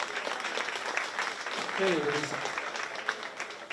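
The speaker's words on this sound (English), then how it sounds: "Give them all a great big round of applause as they head down." Applause from a crowd at a county fair 4-H swine show, a steady wash of clapping that carries on under a brief spoken word.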